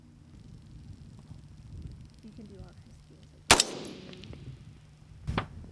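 A rifle fired at a long-range target during a youth shoot: one sharp, loud shot with a ringing tail, then a fainter distant report or target impact about two seconds later, over light wind and quiet background.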